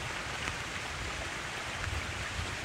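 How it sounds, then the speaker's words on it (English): Heavy rain falls during a windy Cumberland storm, a dense, even hiss of drops that continues without pause at moderate loudness. "We got winds. We got rain."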